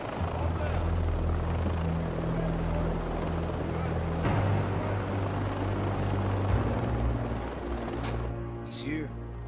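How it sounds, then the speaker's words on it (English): A helicopter's rotor and engine drone loudly and steadily throughout, with a constant low thumping hum that fades slightly near the end. "He's here. Just getting out of the helicopter."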